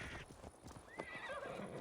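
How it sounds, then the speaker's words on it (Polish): Horse in Assassin's Creed Valhalla, with clip-clopping hooves followed by a clear neighing whinny, close and moderately loud. "Ten koń chce chyba, żebym na niego wsiadł."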